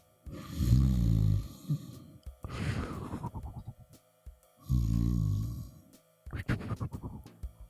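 A voice imitates a person snoring on a couch, producing three loud, rasping, drawn-out snores separated by short pauses, followed by quieter snorting breaths.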